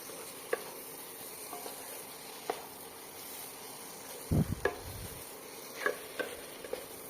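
Prawns sizzle and crackle quietly in a pan of cooked-down mustard spice paste, with soft stirring scrapes and a few sharper clatters around the middle.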